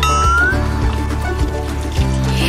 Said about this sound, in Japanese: ひょうたんから水が出ている。